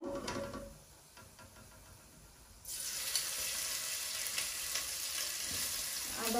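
Whole spices hit hot oil for a kebab curry, starting as a quiet crackle and then bursting into a loud, steady sizzle that holds through the rest of the clip, with no voices.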